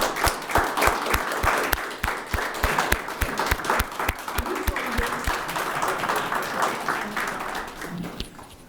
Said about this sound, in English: maybe we should get up and really give Mr. Lewis really quite an applause